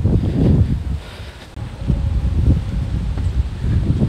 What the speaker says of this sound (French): C'est un vent ici.